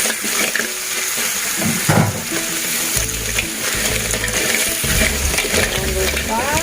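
Clams tossed into a hot pan over fragrant aromatics sizzle and hiss loudly, with scraping stir strokes and watery bubbling going on throughout.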